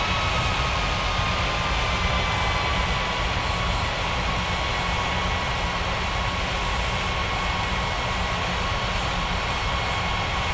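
An airplane's engines roar in a continuous, loud, broadband wash during takeoff from a runway, holding steady throughout with a faint whine above the rumble.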